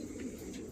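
A racing pigeon coos softly and close by, a brief low murmuring call standing alone with no other sounds.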